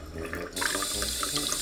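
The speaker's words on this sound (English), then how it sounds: "Getting some water in my hot bathtub." Water running from a tap into a hot bathtub, a steady rushing splash that grows louder and brighter partway through as the flow increases, close and continuous.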